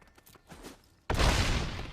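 A creature attack effect from the digital card game MTG Arena, with a Fiend Artisan striking: soft rustling builds, then a sudden loud burst of crackling impact noise that holds for nearly a second.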